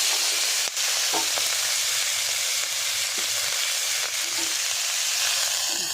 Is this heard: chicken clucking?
no